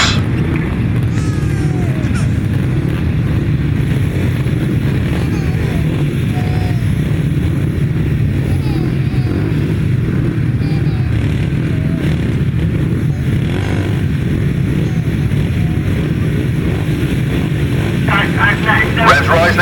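A pack of 250cc solo grasstrack motorcycles roars away at a race start, engines blaring loud and sustained across the field while a commentator's voice runs over the din.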